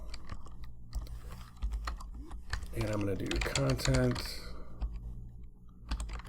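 Rapid, close clicking of a computer keyboard being typed on, with someone speaking briefly in the middle.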